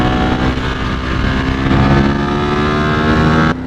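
Powerful motorcycle engine roaring steadily while riding on twisting roads, loud and close with a sustained harmonic drone that rises slightly mid-ride before dropping off abruptly near the end.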